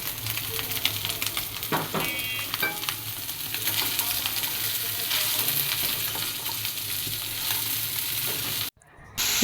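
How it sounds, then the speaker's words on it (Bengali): Chopped mixed vegetables fry in a hot pan with whole garam masala, a loud, steady sizzle broken by scraping stirs and a few clinks before a sudden cutoff near the end. "সব কিছু একটু ভালোভাবে ভাজা হয়ে গেলে এবার দিয়ে দিব কেটে রাখা সবজিগুলো।"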